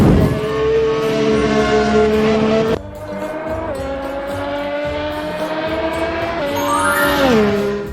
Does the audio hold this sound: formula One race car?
yes